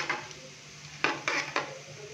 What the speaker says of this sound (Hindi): साबुत खड़े मसालों को हम हल्का सा फ्राई करेंगे जस्ट 30 सेकेंड के लिए।